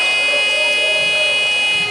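Basketball shot clock buzzer at an NBL1 men's game between Bendigo and NW Tasmania, a single sustained electronic tone held loud and steady for about two seconds over arena background noise.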